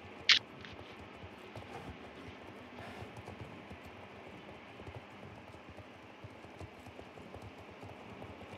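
Horse hooves clip-clop in the online horse-riding game Star Stable Online, a soft, faint rhythmic patter running steadily throughout, with one sharper click near the start.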